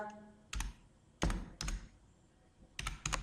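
Typing on a computer keyboard while entering an item name in an Excel spreadsheet: a few sparse clusters of sharp, close key clicks separated by quiet pauses, with no talking.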